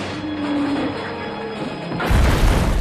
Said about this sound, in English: Kasim and Victor are atomized, and the second truck is gone